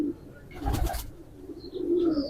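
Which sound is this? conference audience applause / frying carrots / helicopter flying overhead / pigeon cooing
pigeon cooing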